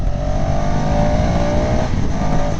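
A 2025 KTM 390 Adventure motorcycle engine revs steadily in third gear around 4,000 RPM, a loud continuous drone with a slowly rising tone, heard close up with wind rush and no talk.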